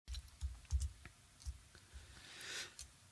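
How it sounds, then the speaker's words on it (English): Typing on a computer keyboard heard close up, with irregular soft clicks and taps in quick bursts during a pause, fairly quiet with no talking. "So you hear the typing on the keyboard in between."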